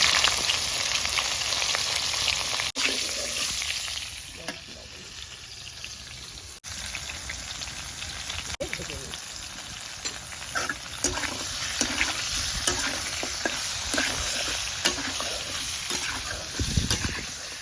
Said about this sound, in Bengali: ফুলকপিটা একটু তেলে লাল লাল করে ভেজে নিতে হবে।